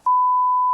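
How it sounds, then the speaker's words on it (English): A smoke detector signalling low battery gives a single clean electronic beep, loud and steady, alone in silence. "This beeping noise was actually just the low battery sound from the smoke detectors in the Turpin's home."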